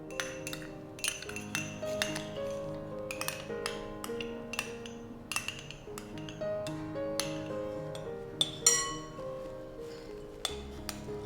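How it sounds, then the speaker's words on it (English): A spoon clinks repeatedly against a bowl while mixing egg yolks with mustard paste, a quiet run of irregular taps and rings. "now let's add in 1 tablespoon of mustard paste, and then we will mix it using a spoon."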